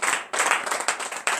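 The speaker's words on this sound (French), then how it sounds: "acclamation à Jésus." Crowd applause and rhythmic clapping during a lively church service, loud and close, with sharp clusters of hand claps rising and falling in quick bursts.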